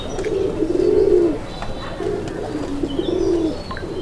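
Raj-golla pigeons at a farm coo loudly in repeated rolling phrases, two long calls close by with small chirps and rustles in between.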